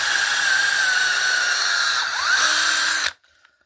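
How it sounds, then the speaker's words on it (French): Power drill boring at an angle into a wooden rafter during timber-frame slab construction, a steady loud whine for about three seconds that winds down and stops abruptly, then near silence. "Là, je te perce. En biais."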